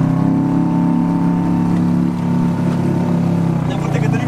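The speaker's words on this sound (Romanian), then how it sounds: "Ne învârte Cătălin cu barca pe Amazon." A motorboat engine drones loudly and steadily while the boat circles on the water at Guatapé, near El Peñol, with people chatting over the noise.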